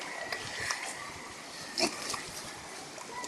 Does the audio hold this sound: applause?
no